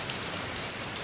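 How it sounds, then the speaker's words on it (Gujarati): Monsoon rain falling in a village, a dense steady patter at moderate level with no pauses over a very short span. "જો વરસાદ, તો એવો વરસાદ આવે છે"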